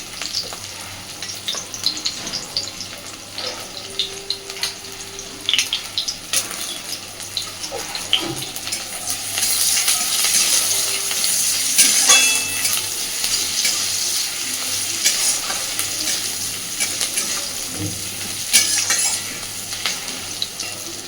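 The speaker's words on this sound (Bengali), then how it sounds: "পেঁয়াজটার মধ্যে হালকা একটু লবণ দিয়ে ভাজবো পেঁয়াজটা" Onions fry in oil with a little salt, a continuous crackling sizzle punctuated by occasional stirring scrapes and clinks, swelling slightly louder midway.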